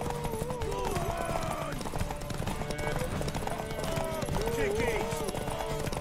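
Horse hooves clip-clop in The Witcher 3, a steady rhythm running beneath game music and a voice speaking over it.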